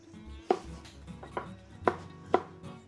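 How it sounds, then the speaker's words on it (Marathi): A knife roughly chopping cleaned strawberries on a board makes four distinct, crisp thuds at an uneven pace, close and clear against a quiet background. "या क्लीन केलेल्या स्ट्रॉबेरीज ज्या आहेत या मी आधी जरा अशा रफली कापणार आहे"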